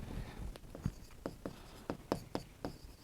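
Pen or chalk writing out a maths solution in a class 8 mensuration lesson, heard as a steady run of short scratchy strokes, close and clear with no talking.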